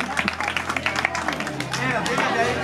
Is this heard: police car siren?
no